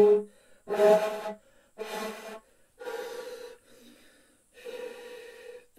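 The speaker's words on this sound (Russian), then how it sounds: "То есть это просто дыхание" Five breathy, rushing exhalations come in slow, evenly spaced bursts with quiet gaps between them, close and faintly tonal, tied to breath on a hocchiku bamboo flute.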